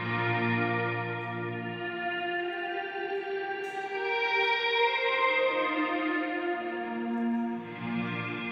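Ambient guitar drone sent through a reverb pedal in bloom mode with the mix fully wet and a 2–3 second decay: sustained, shimmering layered tones that swell and shift slowly, steady and unbroken, with no talking.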